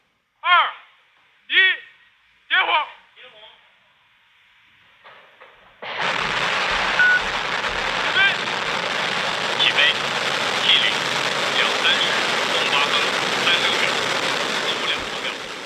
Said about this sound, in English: It was liftoff for a huge Chinese rocket today.